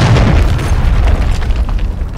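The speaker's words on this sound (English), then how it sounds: "Friendly cruise missile approaching target." A cruise missile explosion in the video game Modern Warfare 3 during a multiplayer match, heard as a loud, continuous booming rumble with no voices over it.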